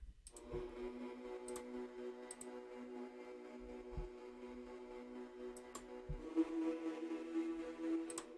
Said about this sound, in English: I basically just found this gospel choir preset in Omnisphere.